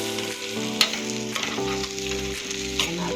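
Boiled potatoes hit a hot pan for a vrat-style farali batata bhaji, giving a steady, close sizzle and frying crackle with a few sharper pops and stirring scrapes.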